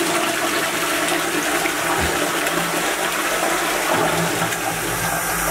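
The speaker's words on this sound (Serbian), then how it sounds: "Dajmo da radi ovaj vodokotlić." A toilet cistern flushes in a studio bathroom under construction, a steady loud rush of water with gurgling that runs throughout, with no talking.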